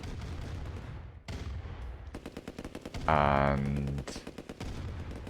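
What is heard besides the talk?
tank battle gunfire in video game Command & Conquer: Red Alert Remastered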